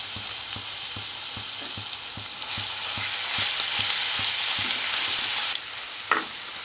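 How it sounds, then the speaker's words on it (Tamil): Crushed ginger and garlic paste sizzles and fries in a pan for an egg roast, a steady crackle with a rhythmic series of faint taps from stirring and a brief louder hiss midway. "இதில் சேர்த்துட்டு நல்லா இதை வந்து அந்த பச்சை வாசம் போகிற வரைக்கும்"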